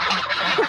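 Geese about three months old, kept at home, honk in short nasal calls, close and fairly loud, with several overlapping honks in quick succession.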